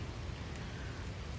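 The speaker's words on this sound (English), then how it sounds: "It's raining again." Rain falling outdoors, a steady dense hiss with no individual drops standing out, continuous and even for the whole moment.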